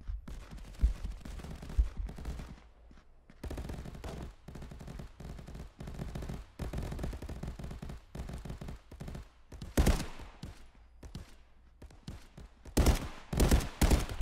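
Rapid bursts of gunfire in the realistic shooter game Contractors during a team deathmatch, sharp close shots in irregular clusters with louder volleys near the end, no talking.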